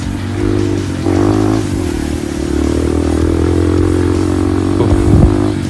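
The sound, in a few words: trail motorcycle revving and accelerating at night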